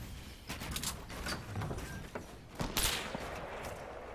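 Gunfire and explosions in a chaotic Fortnite Battle Royale team match: a rapid scatter of distant shots and bursts, with a sharper, louder blast near the middle against a steady background rumble.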